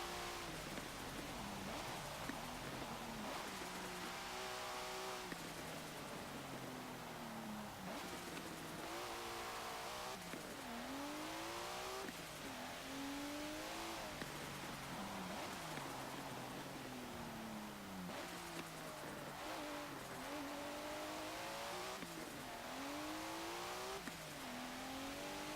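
A 1992 Mitsubishi Galant VR-4 in Forza Motorsport 7 revs hard and continuously, its engine note climbing and dropping with repeated gear changes across a race lap, loud and steady with no talking.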